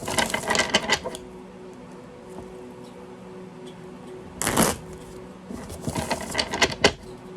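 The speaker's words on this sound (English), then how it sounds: "I'm going to shuffle 3 times." Bursts of tarot card shuffling riffle through a quiet room, one near the start, a short one midway, and another toward the end, with small handling clicks between.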